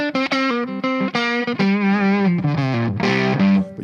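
Electric guitar with a Carina body and maple neck, played through distortion for a warm, dark tone; a loud, continuous run of sustained notes and shifting chords, alone with no talk.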